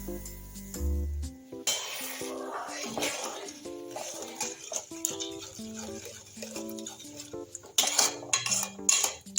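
A pot and metal utensils clink and scrape repeatedly as a bowl of sugar is tipped into thickening milk for a coconut semolina sweet, with clattering strikes throughout and music playing underneath.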